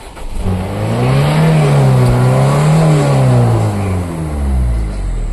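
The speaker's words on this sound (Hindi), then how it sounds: "मैं गाड़ी स्टार्ट करता हूँ, पीछे सिलेंसर के बाद देखना स्मोक कितना है" A Ford EcoSport engine revs up and down in a wavering pitch, close and loud and steady from start to finish, with no talk over it.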